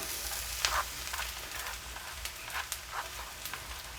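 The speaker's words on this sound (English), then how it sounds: "So we are going to add our garlic" Garlic hitting a hot pan sizzles steadily, a continuous crackling hiss with small pops and faint stirring scrapes, close and moderately quiet.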